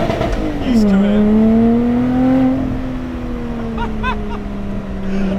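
Lotus Exige 380 Cup sports car on a mountain pass, its engine note rising and then holding a steady loud drone as it pulls through the gears, with a brief higher whine near the end.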